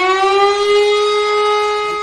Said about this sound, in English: anytime you hear a weather siren, that means there's bad weather coming our way